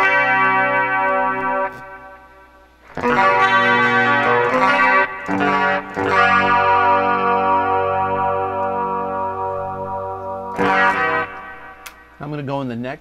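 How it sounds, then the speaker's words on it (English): Les Paul electric guitar played through the bridge pickup into a Tom Scholz Rockman with Stereo Echo, giving sustained echoing chords and notes, loud and close, with short pauses and a brief warbling tone near the end. "I'm gonna give you the bridge pickup on this Les Paul."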